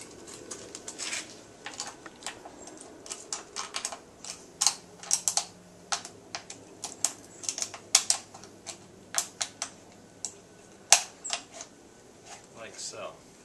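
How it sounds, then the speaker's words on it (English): Pieces of an aluminum soda can, being made into an alcohol stove, are crinkled and pressed together. The result is irregular bursts of sharp, close crackling clicks with quiet gaps between them. "we're going to take the top and place it inside the base. And you may have to crinkle this just a tad bit to get the fit."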